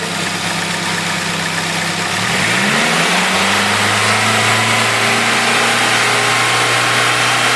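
A PS13 car engine idles close by, then rises in pitch as it revs up and holds at a higher, steady drone.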